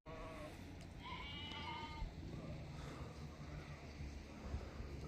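Hisor sheep from Surkhandarya bleat on a mountain pasture, several wavering calls overlapping near and farther off over a continuous low outdoor rumble.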